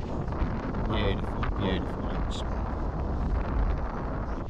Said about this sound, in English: Little bit windy.